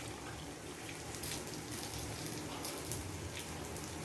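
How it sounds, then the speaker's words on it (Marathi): Water poured into a tomato curry mixture with green masala paste, a faint, continuous splashing and trickling close by, with no voices. "आधी थोडं पाणी घालून घेऊ"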